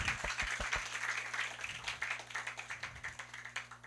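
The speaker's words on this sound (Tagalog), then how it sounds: "Yung the best na palakpak." A church congregation claps for several seconds, with soft scattered hand claps coming at a fairly quiet level and no voices over them.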